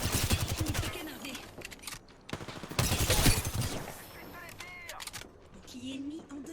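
Bursts of automatic fire crackle in a Season 21 match of the video game Apex Legends, coming in loud rapid volleys separated by short pauses, with a player talking over the action.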